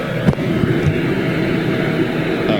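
KLM Boeing 737 airliner on pushback at Manchester Airport, a steady broadband engine roar and hum held at an even level throughout, with no talk over it.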